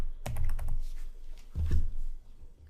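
Computer keyboard typing in an office software setting: a burst of close key clicks early on, then a second cluster of heavier keystrokes, alone with no voice.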